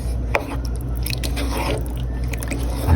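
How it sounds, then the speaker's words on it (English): Ground beef and sausage are stirred in a pot with salt, giving soft wet squishing and scraping under a constant low sizzle, close and continuous for a few seconds. "We're gonna stir all that together"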